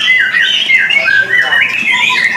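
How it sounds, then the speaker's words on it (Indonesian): A white-rumped shama kept for sale as a songbird sings loudly and close, pouring out continuous, shifting whistled and squawking phrases with no pause. "Ini di atas ada juga burung dari murai ini."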